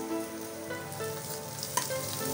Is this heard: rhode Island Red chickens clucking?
no